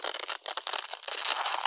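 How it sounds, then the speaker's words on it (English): Dense, irregular crackling and snapping like ice cracking, bright and close, continuing without pause: an auditory display signalling a 3D-printing welding pool running too cold. "And if it becomes too cold, you hear crackling ice."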